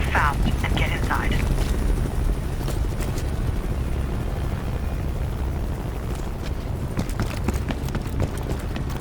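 A helicopter in Call of Duty: Black Ops Cold War churns with a loud, continuous low rotor rumble, with scattered footsteps and a few brief voices along with it.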